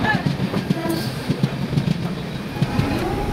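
A train pulls into Thane station with a steady, rhythmic clickety-clack of wheels over rail joints, loud and close, with faint voices in the background.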